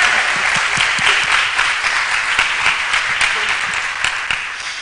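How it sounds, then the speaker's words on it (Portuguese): Steady applause from an audience at a Portuguese-language academic talk on digital humanities, marking librarians' day; dense continuous clapping at even loudness for about five seconds with no voices over it. "Uma salva de palmas aí para o dia do bibliotecário"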